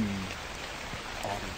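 Steady rain falling on the ground in a night-shift convenience store horror game, a continuous soft hiss of drops with an eerie, ominous feel, no voices.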